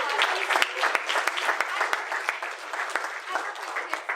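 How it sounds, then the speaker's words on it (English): Audience applause at an event interview, many hands clapping in a busy, sustained patter with sharp individual claps standing out, heard at moderate loudness. "let's give a round of applause"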